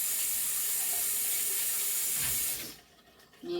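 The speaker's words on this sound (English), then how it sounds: "Get my hands washed off" Hands are washed under a running kitchen tap, with a steady hiss of flowing water that stops abruptly near the end and leaves a faint, quiet room.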